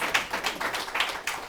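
An audience claps steadily at an event about sexual offences in the Eastern Caribbean, a dense run of quick hand claps at moderate loudness with no pauses.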